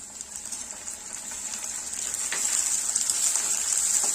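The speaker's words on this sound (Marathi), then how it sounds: "कांदा छान ट्रान्सपरंट झालेला आहे, यामध्ये आपण घालणार आहोत टोमॅटो।" Tomato goes into a pan of sautéed onion for a Solapur-style peanut vegetable dish, and a soft, steady sizzle builds gradually with light stirring clicks.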